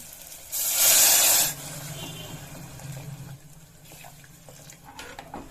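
Water poured from a vessel into ground rice masala for tomato bath, a loud splashing gush for about a second, then quieter bubbling and stirring.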